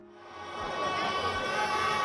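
A large crowd fills the Mobolaji Johnson Stadium in Lagos for a Progressive Youth of the Southwest political rally. A broad, continuous roar of many voices swells during the first second and then holds steady and loud.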